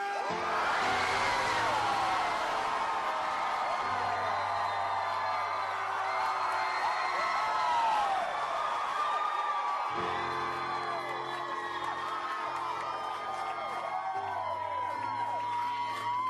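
A large concert audience cheers, screams and whoops together in a sustained roar that fills the whole stretch, loud and distant-sounding, with a low sustained musical tone underneath.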